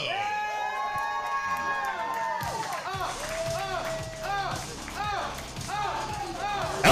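A wrestling show crowd cheers and shouts for the KC Metro champion's entrance, a steady roar under loud entrance music with rhythmic hits.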